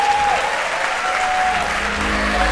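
An audience at a managers' retreat applauds and cheers to welcome a shy woman, loud continuous clapping with a sustained tonal whistle or cheer running over it.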